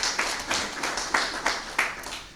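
At a football cup media launch, a small audience gives sparse, faint applause: a handful of distinct claps in an uneven rhythm.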